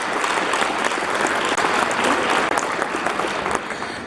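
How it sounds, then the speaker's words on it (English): Guests at a national day reception applaud the event staff. The clapping is loud, steady and continuous throughout, with no voices rising above it. "Please join me in giving them a big round of applause as well."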